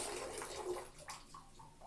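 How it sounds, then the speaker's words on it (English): Water runs and splashes into a toy bath scented with lavender, a soft steady pour with a few brief gurgles and drips as the flow is shut off, heard alone without speech. "I think that's enough water for our toys. We'll shut it off."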